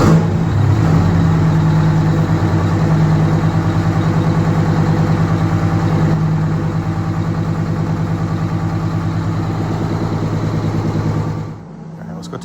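Freshly rebuilt Detroit Diesel engine, previously down on power, runs loud and close with a steady, heavy low rumble and fast rhythmic clatter for about eleven seconds before it drops off.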